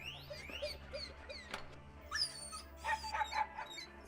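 Dog whimpers, yips and short barks in the video game Silent Hill 2, a series of small high-pitched cries and yelps over a low steady game background hum, with no talking.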